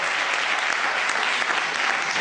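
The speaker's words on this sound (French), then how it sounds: "We are happy to clap for the Lord." Dense, steady applause from a congregation fills a ceremony hall, a continuous wash of many hands clapping at once with no pause throughout.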